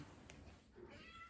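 Stitches the pet cat gives a faint, brief meow or two, quiet and somewhat distant against a low indoor background.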